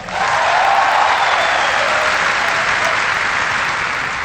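Loud, sustained audience applause at a 2012 presidential speech by Barack Obama, a dense roar of clapping that swells early and then slowly tapers.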